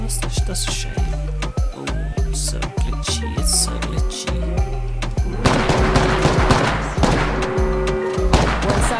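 Rapid bursts of close, loud gunfire in the Apex Legends battle royale game, overlapping automatic fire and heavy thuds repeating in quick rhythm, denser and busier toward the end.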